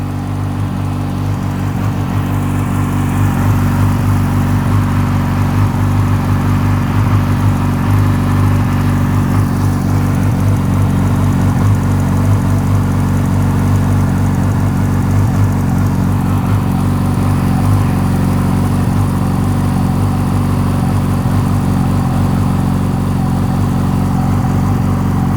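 A Yamaha R6 sport motorcycle engine idles steadily while warming up, a constant loud, even drone with a low pulsing hum that holds unchanged for the whole stretch, with no talking.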